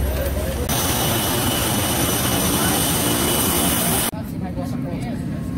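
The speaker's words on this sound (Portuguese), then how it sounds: "Cheguei aqui no avião." Loud, steady roar of an airplane's engines on a flight to Rio de Janeiro, heard from inside with a brief drop in level near the end.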